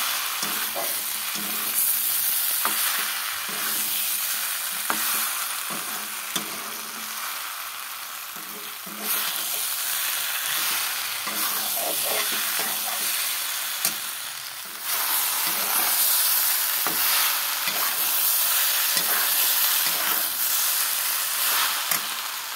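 Vegetables fry in a cooked-down spice paste, a loud hissing sizzle that surges in waves as they are stirred, with occasional utensil knocks and no voices.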